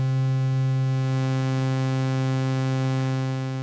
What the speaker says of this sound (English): So now we have a sine wave for half of a cycle, and then a sawtooth wave for the other half of a cycle.